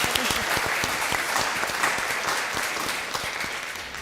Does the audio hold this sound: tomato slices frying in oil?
no